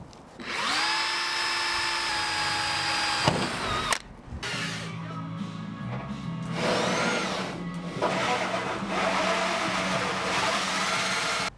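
A power drill runs with a high steady whine, pauses with a clunk, then grinds again in several longer bursts through a car's metal floor, close and loud.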